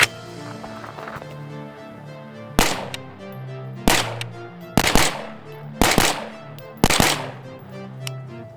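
Rifle shots from a 16-inch BCM carbine fitted with a SureFire RC3 suppressor, firing M193 ammunition outdoors: five sharp, loud reports spaced about a second apart, each trailing a brief echo, with quieter ambient noise before the first.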